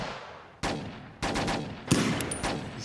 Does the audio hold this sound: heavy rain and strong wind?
no